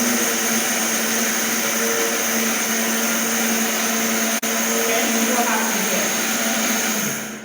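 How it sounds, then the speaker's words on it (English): A Silvercrest blender grinds dried corn kernels into powder, giving a loud, steady motor whine with a gritty rasp that runs unbroken for several seconds apart from a sharp blip midway. "It's already grinding the beans into powder."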